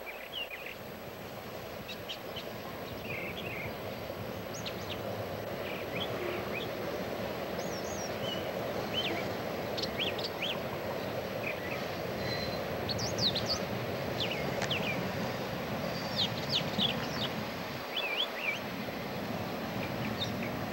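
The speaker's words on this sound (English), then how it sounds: "It's some kind of male bird doing a mating call." A male bird repeats a short chirping mating call outdoors at a distance, under a steady background hum of wind or traffic.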